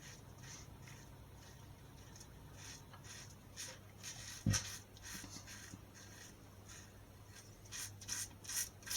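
A safety razor drags across a lathered face in short, soft scraping strokes, close and quiet, repeating in an uneven rhythm.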